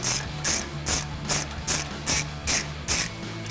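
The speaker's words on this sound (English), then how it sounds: "Then I'll switch over to my 1/2" drag ratchet with my 19mm and bring them out the rest of the way." A 1/2-inch drive ratchet with a 19mm socket clicks in a steady rhythm, about eight short bursts, as stock brake bolts are backed out on a 2014-2021 Toyota Tundra, close and alone.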